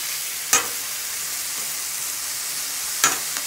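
Peeled squash softening in a frying pan, with a steady, close sizzle throughout and two sharp knocks of a utensil stirring the pan.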